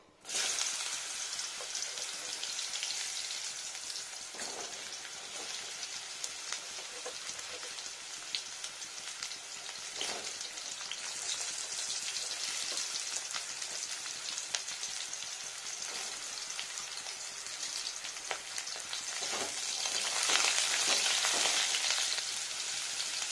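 Ridge gourd frying in hot white oil makes a continuous crackling sizzle for over twenty seconds, with occasional louder pops and spatters, and no talking.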